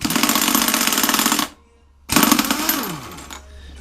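A 24mm nut on a lawnmower flywheel is rattled off with an air-powered impact tool run from a compressor: a loud, rapid hammering burst, a short pause, then a second burst that winds down as the air runs out.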